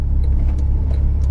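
Porsche 911 Carrera GTS sports car driving, a steady, loud low engine and road rumble heard from inside the cabin, continuous without break.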